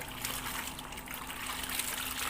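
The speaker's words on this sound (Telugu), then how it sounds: "సబ్బు నిండా వాటర్ తీసుకొని" Water splashing and trickling over soap while hand-washing clothes, a steady close running wash with no break and no talk.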